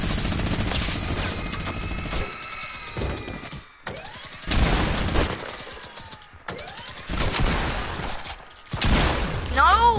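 Bursts of automatic gunfire from a Fortnite match crackle in dense volleys, broken by short gaps, with a player's voice speaking over parts of the action.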